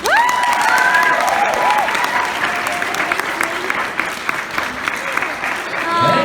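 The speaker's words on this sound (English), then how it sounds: "One more round of applause for Strawberry Baby." Audience applause at an anime convention panel, a dense, steady round of clapping filling the room, with a voice speaking over it near the start and end.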